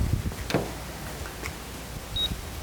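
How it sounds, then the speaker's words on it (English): A short, thin electronic beep from a paint thickness gauge on a painted car panel sounds once near the end, over faint handling clicks and low room noise. "Each time it beeps."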